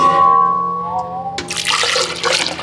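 Water poured into a blender jar for making handmade paper from fabric pulp, a short steady gush starting abruptly after a sustained motor-like hum, close and fairly loud.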